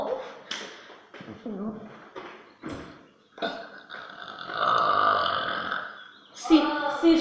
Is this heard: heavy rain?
no